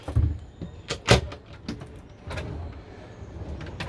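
A wide drawer in a 2022 Karmann Mobil campervan slides open and shut, with a couple of sharp knocks and scraping runs close by, followed by softer rattling handling sounds.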